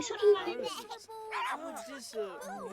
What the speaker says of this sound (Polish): O, pieski są.